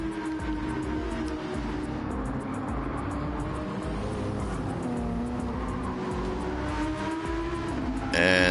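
Gr.3 race cars racing on the Dragon Trail circuit in Gran Turismo 7, with engines droning and revving steadily at close range as they pass, and a sharp louder rev burst at the very end.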